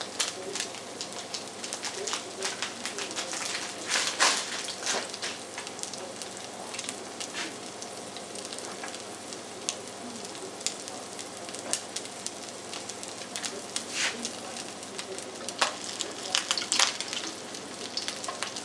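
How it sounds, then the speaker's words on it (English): Steady crackling sizzle of food frying in a pan, with occasional louder pops and spatters, close by and with no talking. "Frying much better too."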